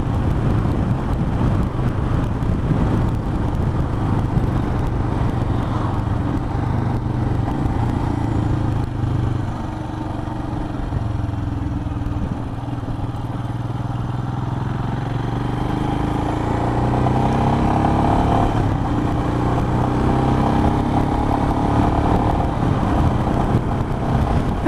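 Royal Enfield Himalayan motorcycle engine droning steadily while riding, a continuous loud low rumble with wind and road noise that dips slightly midway then builds again.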